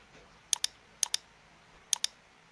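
Computer mouse clicks while working in Archicad, three quick double clicks spaced about half a second to a second apart, crisp and close over a quiet background, no talking.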